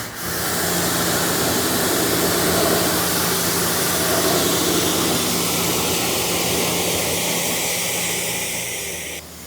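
A pressure washer sprays a steady, loud rinse over an Audi S8's paintwork, a continuous hissing roar with a low motor hum beneath it that holds for nearly ten seconds before easing off slightly at the end.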